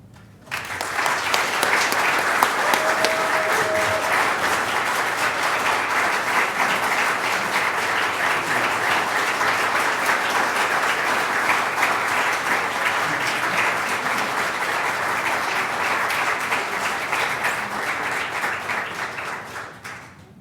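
Sustained audience applause at an annual awards event, a dense, steady wash of many hands clapping that holds strongly for about twenty seconds before tapering off at the end.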